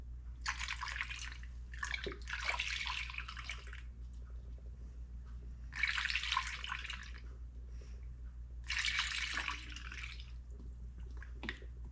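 Fuel glugging and splashing as a snowmobile tank is filled, four bursts of gurgling liquid of one to two seconds each, moderately close, separated by quieter pauses over a low engine-like hum.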